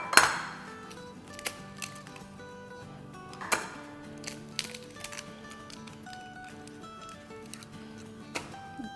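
Two eggs cracked in a home kitchen: sharp taps and clinks, the strongest at the start and another near the middle, followed by fainter clicks and a ringing kitchen background.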